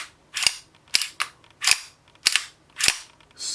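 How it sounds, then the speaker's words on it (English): An SPS Pantera pistol with an aluminum frame and polymer grip being cycled by hand: six sharp metallic clacks of the slide and action, close and clear, spaced roughly half a second apart in a quiet room. "See if the action sound will come through well for you."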